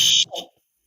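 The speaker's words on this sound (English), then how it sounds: "If that alarm keeps going off, there might actually be a fire in the building." A building fire alarm sounds a loud, harsh electronic buzz for about a quarter second, then a shorter, weaker burst, and then it falls silent.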